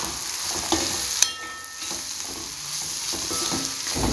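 Crab masala frying in a pan as spices are added, a steady loud sizzle with a sharp clink of a spoon and light stirring scrapes, no voices.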